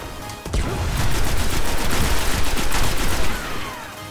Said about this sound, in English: This assault rifle does 20 points damage, I think.